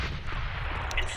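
A grenade detonates in a tactical first-person shooter match, a dense rumbling blast with low booming energy sustained across a short burst, close and loud, mixed with other gunfire-like thuds.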